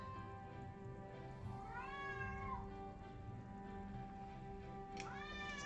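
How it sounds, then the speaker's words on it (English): Two drawn-out meows from an older cat, faint and somewhat distant, rising and falling in pitch over a steady background hum. "They just meow a lot."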